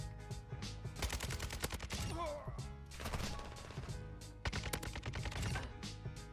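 A Kastov 762 assault rifle in Modern Warfare 2 fires rapid, punchy bursts at close range. The volleys come in clusters separated by short pauses, with some game effects between them.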